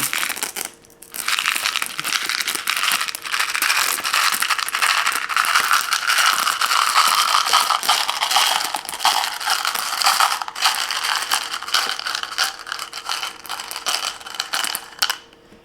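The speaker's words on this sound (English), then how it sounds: "now I have a cup of M&Ms, and we're just gonna sprinkle these on top" M&M's candies sprinkled over a tray of marshmallow bars give a steady, close rattling and crinkling patter of small hard pieces that runs for about fifteen seconds, then briefly pauses, with no talking.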